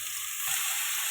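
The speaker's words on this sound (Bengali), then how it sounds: "তার জন্য কড়াতে তেল দিয়ে দিলাম, ঝিঙেগুলো দিয়ে দেবো, একটু হালকা করে ভেজে নেব" Ridge gourd pieces frying lightly in oil in a wok, a steady close hiss of sizzling fat that holds evenly throughout with no voices.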